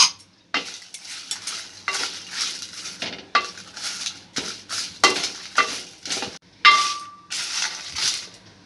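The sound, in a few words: roasting chilies and bay leaves in a frying pan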